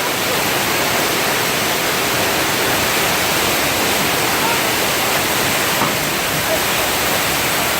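A simulated earthquake effect on a Universal Studios tour ride gives off a loud, continuous broadband rumble and roar, like rushing water and shaking debris, steady for the whole stretch.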